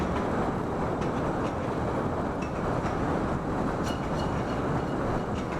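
A train rolls steadily in a video game, giving a dense, unbroken rumble with faint metallic clinks scattered through it, no voices.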